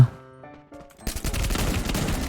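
Rapid bursts of gunfire from the Free Fire battle royale game ring out loud and dense after a quieter opening, with no talking over them.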